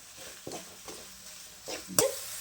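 Ginger garlic paste sautés in a pan for a veg kuruma, with a soft sizzle under a few short stirring scrapes and one sharper clink, quiet and close, with no talk.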